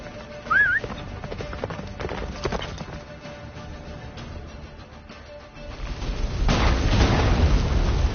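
Roach the horse galloping in The Witcher 3, rapid hoofbeats drumming close up amid wind and a rising low rumble, with a brief whinny near the start and the rushing noise swelling toward the end.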